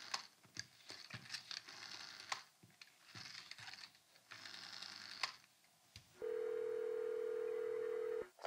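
In a newspaper office, scattered keyboard clicks and desk clatter come first, then a loud, steady telephone tone sounds unbroken for about two seconds before cutting off.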